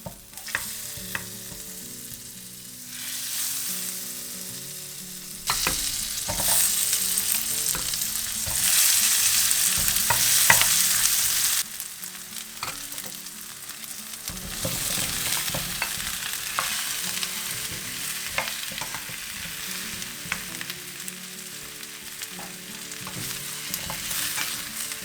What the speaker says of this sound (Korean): 궁중팬에 버터를 녹여준 후 양파와 단호박을 넣고 볶는다.